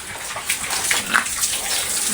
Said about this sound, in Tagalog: Puno na puno ng tubig